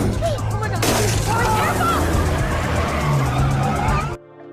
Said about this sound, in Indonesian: mobil itu pun mendadak melaju kencang dan menabrak pembatas jalan